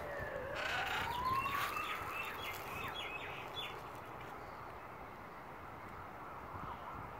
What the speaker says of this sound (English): Hear the siren?